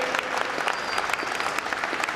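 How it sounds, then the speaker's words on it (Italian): At Italian Prime Minister Renzi's event with international pavilions, the crowd breaks into sustained applause, a thick, even roar of many clapping hands with no speech over it. "fatevi un applauso"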